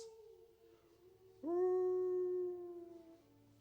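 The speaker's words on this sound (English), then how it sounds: "And immediately you hear howls." Howls as a sound effect, a single long wavering howl that rises abruptly, sustains for about a second, then fades, fairly clear over a quiet low hum.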